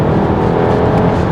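Engine of a 2023 Volkswagen Tiguan Allspace with the 2.0 TSI petrol engine revving at high rpm, a steady, loud, dense roar that holds without a break and has no talk over it.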